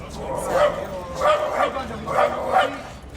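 A dog in the streets of Pietrasanta, Italy, gives several short, moderately close barks in quick pairs, mixed with people talking nearby.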